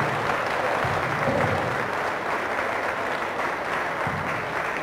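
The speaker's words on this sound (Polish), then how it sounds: "myślę, że także wielkie brawa od Państwa dla tych młodych mięśniarzy" Audience at a Polish amateur boxing gala applauds the young boxers, a broad, continuous wash of clapping from a large crowd in a hall, even and sustained across the whole stretch.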